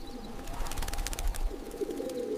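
Pigeons coo softly under a low steady background hum, a repeated muffled pulse that is faint and constant.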